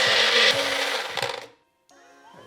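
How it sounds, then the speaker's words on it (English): A blender whirs loudly as it blitzes homemade hoisin sauce, a rough grinding roar that runs about a second and a half before cutting off, followed by faint music. "everything into a blender of your choosing. We blitz."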